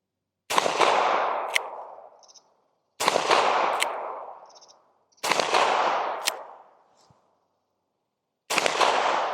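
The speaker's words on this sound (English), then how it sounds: "let's shoot some more" A Taurus Deputy .357 Magnum revolver with a 5.5-inch barrel fires four loud single shots outdoors at a steel target, spaced a few seconds apart, each cracking sharply and then fading into a long rolling echo.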